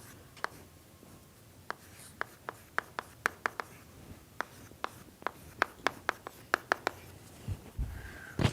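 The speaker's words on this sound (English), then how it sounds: "I have to write this, sorry." Chalk or marker strokes on a lecture-hall board during a numerical methods class: a quick run of sharp taps and short scratchy strokes, close and clear, with pauses between bursts and no voice.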